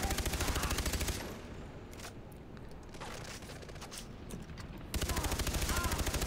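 Rapid automatic gunfire from a firefight in the video game Far Cry 3, loud, dense bursts at the start and end with a quieter stretch of scattered shots and voices between.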